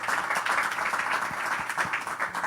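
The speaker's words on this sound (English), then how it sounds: "A big round of applause to this group." Audience clapping for a panel group at a talk on AI and content creation; a brief burst of moderate, dense applause with scattered individual claps.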